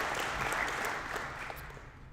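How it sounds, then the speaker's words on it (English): Audience applause at an EMS coining ceremony: sustained, dense clapping from a crowd that holds steady and then tapers off slightly, with no talk over it. "I would like to give all those guys and these folks on the stage a round of applause."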